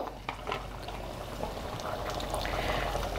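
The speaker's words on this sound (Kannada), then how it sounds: "ಸ್ವಲ್ಪ ಹುಣಸೆ ರಸ ಬಿಡ್ತಾಯಿದ್ದೀನಿ" Tamarind juice is poured into simmering brinjal sambar, and a close, steady bubbling and gushing of liquid carries on continuously without talk.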